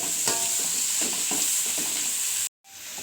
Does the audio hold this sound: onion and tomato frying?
yes